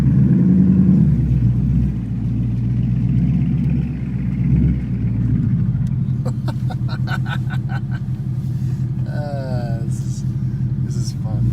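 A tuned 2018 Ford Mustang GT making about 470 wheel horsepower, its exhaust rumbling and gurgling steadily at close range, with excited voices talking and exclaiming over the engine throughout.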